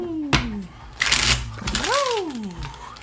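Tarot cards are shuffled in a short, rustling burst near the middle, framed by a few sharp taps and some gliding vocal sounds.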